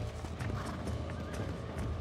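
Horse hooves clip-clopping at a steady run with a neigh in Red Dead Redemption, continuous and close against in-game ambience, with a player's voice faintly in the background.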